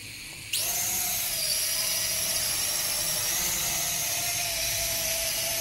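A TXD-8S budget drone powers up and hovers, its high, steady propeller whine starting abruptly and holding loud and even, with no talk.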